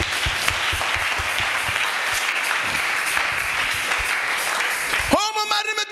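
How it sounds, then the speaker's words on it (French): Audience applause at a live show, a dense, loud wash of clapping from a crowd that runs steadily for about five seconds before breaking off into a voice speaking at the end. "Nous acclamons très fort."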